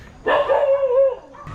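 A single dog barks up close in Ubud, Bali, one loud drawn-out yelping bark that trails off into a short whine.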